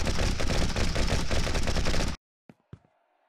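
Gunfire in The Last of Us Level Project video game: a dense, loud sustained burst of rapid automatic fire that cuts off abruptly, followed by two sharp single shots or impacts with faint ringing tails.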